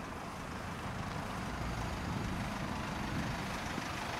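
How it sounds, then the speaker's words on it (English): Steady low engine rumble of a stationary police car idling, constant and unbroken, with faint road hum around it. "Sounds like their engines are running."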